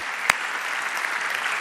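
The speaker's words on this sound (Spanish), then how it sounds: "Un aplauso para Isma" Steady applause from a conference audience at an annual investment strategy event, a dense even wash of clapping held at moderate level with one sharp louder clap near the start.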